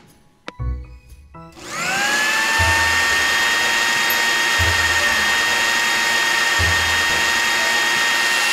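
A blender whirs steadily after a brief start-up as it purees diced watermelon, carrot, mango and avocado, a loud, constant motor whine with a few low thumps from the fruit tumbling inside.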